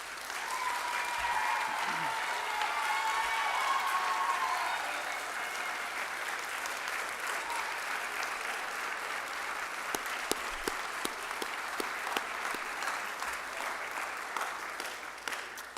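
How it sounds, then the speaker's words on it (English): A crowd applauds warmly, the clapping swelling early then thinning into scattered individual claps and fading, with faint voices at the start. "Let's give him another round of applause."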